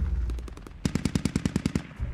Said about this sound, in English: I think they set up an MG on where squad 4 is.